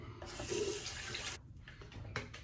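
Water from a bathroom tap runs steadily for about a second while rinsing after a shave with a 1924 EverReady Shovel head razor, then cuts off, leaving a few soft splashes and drips nearby.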